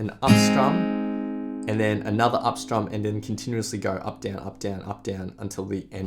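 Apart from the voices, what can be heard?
No distinct noise like a dog, phone or traffic.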